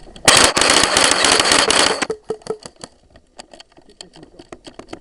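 Airsoft guns fire during a woodland skirmish at a Lincolnshire club: a dense, loud burst of rapid full-auto shots for about two seconds, then scattered sharp single cracks and short bursts nearby.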